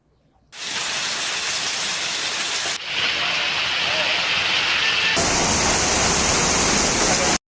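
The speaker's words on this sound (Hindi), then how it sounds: "बिजली के कड़ाकों के साथ बरसी धुआंधार बारिश के चलते लोगों को गर्मी से राहत मिली।" Heavy downpour with thunder and lightning, a loud, steady roar of pouring rain that shifts in tone twice, with no voices heard.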